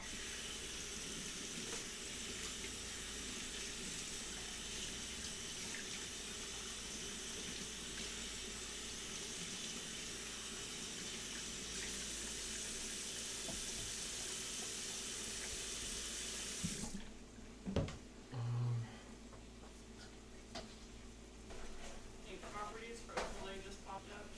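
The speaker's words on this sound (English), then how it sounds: "Then I rinse them off." Tap water runs steadily into a kitchen sink as berries are rinsed, a broad continuous hiss for most of the stretch before it cuts off, leaving quieter clatter and handling noises.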